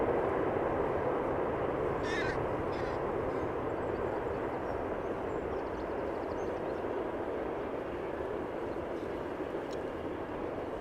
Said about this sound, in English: It was Emirates flight 145 arriving from Dubai. 777-300, 11 years old it is already.